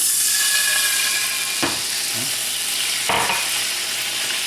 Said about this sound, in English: we're going to deglaze with wine